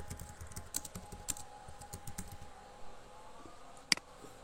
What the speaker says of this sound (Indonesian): Diketik dulu contoh nama sekolah saya.